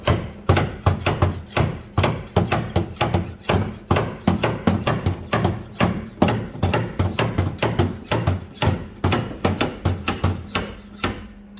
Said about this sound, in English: You gonna tap and slide hammer at the same time?